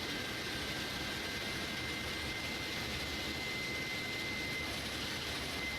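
Steady jet engine whine of an iniBuilds A300 spooling up in Microsoft Flight Simulator, a faint continuous hum with a thin high tone held throughout, no talking.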